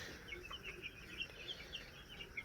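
Eight-day-old chicks, likely broilers, peep and cluck softly in a farm shed, with a scatter of faint high chirps over a low steady background hum.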